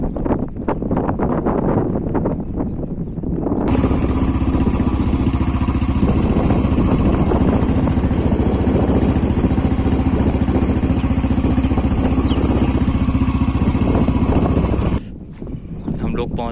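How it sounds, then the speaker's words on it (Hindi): Motorcycle ridden out to a rice field, engine noise and heavy wind buffeting rising abruptly after a quieter start and holding steady for most of the ride before dropping away near the end. "ये रही अपनी बाइक, चलो चलते हैं।"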